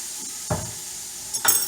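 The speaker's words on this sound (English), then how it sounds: "I'm going to stir that in there, let everything get incorporated." Garlic stirred into sizzling onion in a pot for venison stew: a steady soft sizzle underneath, with two brief scraping stirs of a spoon, close and moderately quiet.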